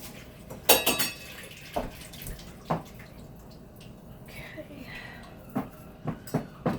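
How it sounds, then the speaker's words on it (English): A kitchen knife rinsed under a running tap while making a kale and cauliflower salad, with faint water flow and a series of clattering knocks and splashes against the sink, some near and sharp, under a voice talking. "Just wash this knife off real quick."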